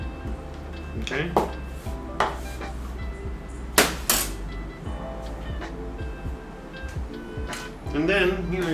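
A small hammer cracks whole allspice berries on a kitchen counter, giving several sharp, separate knocks spread irregularly through the stretch, with one louder strike near the middle, over faint kitchen background and some low talking.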